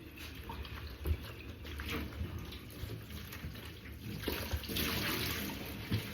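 Water runs from a tap as an item is rinsed out, a steady splashing flow that swells and shifts with brief knocks, close and fairly quiet, with no voices.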